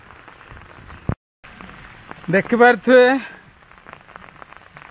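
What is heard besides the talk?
heavy rain falling in a village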